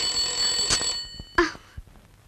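A telephone rings twice in short, bright bursts, each fading quickly, with a faint knock after the second.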